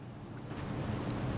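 Ocean waves rushing along a ship's bow where bottlenose dolphins ride the surge, a steady broadband wash of surf with wind noise, continuous and fairly soft.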